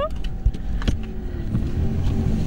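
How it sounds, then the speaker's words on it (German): Steady low engine and road rumble inside a new car on a drive in Australia, continuous and fairly loud, with a brief thump near the start and no talking. "Wir machen jetzt eine erste Tour in Thomas neuen Auto"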